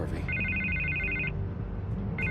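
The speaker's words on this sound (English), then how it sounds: "I can't get the phone to stop ringing." A telephone rings in the Batman Telltale video game with two bursts of repeated electronic trilling. The first is long and the second starts near the end, both over a low, busy background.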